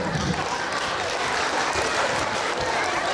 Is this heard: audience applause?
yes